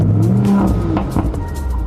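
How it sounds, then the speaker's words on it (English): The engine of a 2027 Audi RS5 rumbles with a deep, loud, steady drone and some throaty revving, heard up close and continuously. "We have a really powerful engine."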